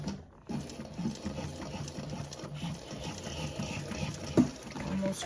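A sewing machine runs a fast, steady whir while stitching a reinforcing seam over staples, fairly quiet and close, with one sharp click near the end.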